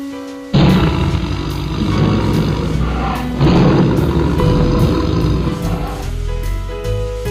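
A tiger roars loudly and at length, with deep rasping growls swelling twice and trailing into rumbles, close and alone.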